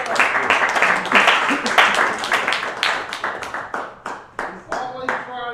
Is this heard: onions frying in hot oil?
no